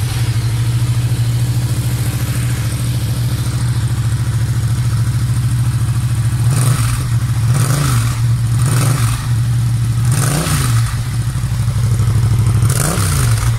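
A 2019 Yamaha MT07 with an Akrapovic titanium exhaust and a modified dB-killer baffle idles loudly and steadily, then gives several sharp throttle blips in the second half, close and alone.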